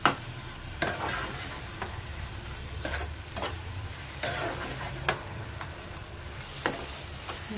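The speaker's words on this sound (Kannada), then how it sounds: "ಸ್ವಲ್ಪ ಹೊತ್ತು ಫ್ರೈ ಮಾಡಿದರೆ ಎಷ್ಟು ಚೆನ್ನಾಗಿ ಎಣ್ಣೆ ತಳ ಬಿಡ್ತಾರೆ." Grated raw mango pickle frying and stirred in oil in a pan: a steady soft sizzle with regular spoon scrapes and stirring clicks about once a second, close by, with no talking.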